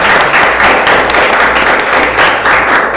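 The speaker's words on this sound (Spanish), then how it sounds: "¡Un aplauso!" Studio audience applauding at an anniversary radio-style program, a steady dense wash of clapping that holds for the whole stretch without any talk.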